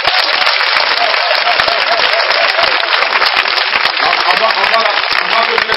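Congregation at a church service applauding and cheering for Jesus, steady dense clapping and crowd noise throughout, loud and close, with voices mixed in.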